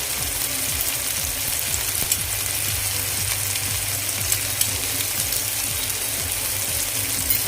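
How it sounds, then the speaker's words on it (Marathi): Ginger-garlic paste fries with softened tomatoes in a pan for a cauliflower egg bhurji, giving a constant loud sizzle with faint rhythmic scraping of a spatula underneath, no voices. "या पेस्टचा फक्त कच्चेपणा जाईपर्यंत एका दोन मिनिट आपण हे परतून घेऊया"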